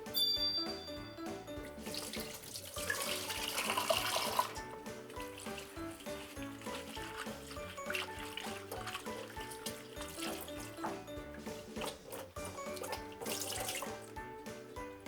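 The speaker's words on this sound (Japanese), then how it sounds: "で一回ちょっと水流してもう一回水入れてちょっと洗う感じ。" Tap water runs steadily into a kitchen sink while sliced lotus root is rinsed under it, a continuous close splashing and trickling stream that swells briefly partway through, with no one speaking.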